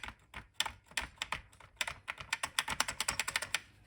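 Keys pressed on a cleaned Didaktik M computer keyboard, a quick series of sharp, close clacks that speeds up into a rapid, even run of taps toward the end.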